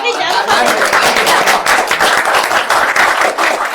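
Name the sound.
audience applause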